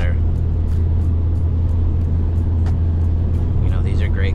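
Steady road rumble and engine drone of a Volkswagen Mk7 GTI with 100,000 miles cruising at 65 mph, heard from inside, with a brief muffled voice near the end.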